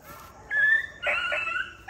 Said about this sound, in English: See that puppy bark.